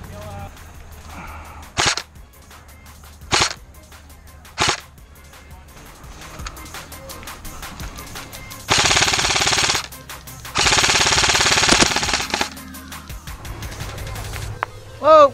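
Airsoft guns firing during an outdoor skirmish game: three sharp single pops spaced apart, then two longer bursts of rapid full-auto fire, some nearby and loud, with faint background voices.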